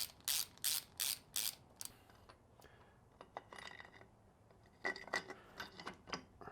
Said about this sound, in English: take your socket, snug this guy up.